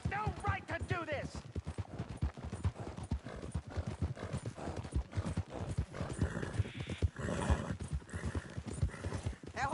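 Horse hooves clip-clop in quick rhythmic strikes in a Red Dead Redemption 2 western game scene, with a whinny early on and shouted voices and game sounds mixed in over the galloping.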